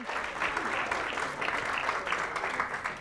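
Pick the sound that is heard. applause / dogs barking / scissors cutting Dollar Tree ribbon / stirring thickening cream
applause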